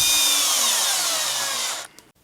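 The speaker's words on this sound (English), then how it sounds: "I'll come back with a screwdriver and snug them all down" A screwdriver snugs down the bridge mounting screws on a Telecaster-style guitar being built, a loud close whirring motor whine lasting about two seconds that slowly drops in pitch and then cuts off abruptly.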